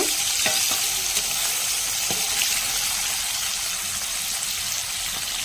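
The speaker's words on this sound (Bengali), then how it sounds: "এবার একে একে সব মাছ দিয়ে ভালো করে ভেজে নিব।" Pomfret fish frying in mustard oil in a wok, a steady close sizzle and crackle running the whole time with a few sharp pops and spatters, no voices.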